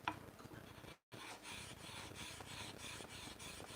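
A hand file rasps steadily across a workpiece in a home workshop, close and fairly quiet, with rhythmic back-and-forth strokes and a brief pause partway through.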